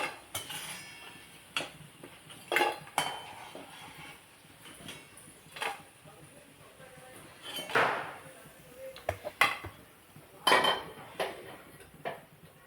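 Fried palak and chana dal bhaji are lifted from the frying pan onto a plate with intermittent clinks, taps and scrapes of utensils. The sounds are close and scattered, with quiet pauses between them.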